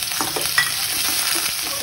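Onions sizzle steadily in a hot pan with garlic for hakka noodles while a utensil stirs and scrapes through them, close and continuous with no talking.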